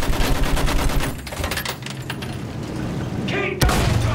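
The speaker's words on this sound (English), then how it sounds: "Use the MG! Sweep the ground!" Rapid machine gun fire in the World War I shooter Battlefield 1, loud and close and continuous, with booming impacts and one sharp blast near the end.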